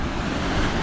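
Stormy sea waves surge against the Crimean coast, a dense, loud roar of surf blended with buffeting wind noise, continuous and close, with no talking.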